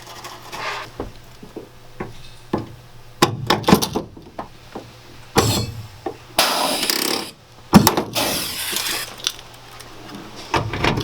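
Rivets going into the interior frame of a van: scattered sharp metallic snaps and clunks, some loud and close, with bursts of tool noise between quieter gaps.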